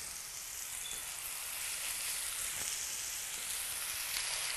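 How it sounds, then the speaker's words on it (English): Burger patties frying in a little oil in a pan, giving a steady, even sizzle at close range. "A little bit of oil, and just place them into your pan."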